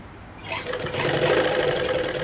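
A sewing machine runs a straight half-inch seam while stitching hooks and buttonholes, starting after a brief pause and then whirring steadily at close range with a fast, even mechanical rattle.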